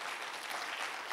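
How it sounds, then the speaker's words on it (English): Church congregation applauding students at a Sunday service, a dense, even wash of clapping from many hands, moderately faint and continuous. "Can you give one more round of applause for just all the students that came together this morning?"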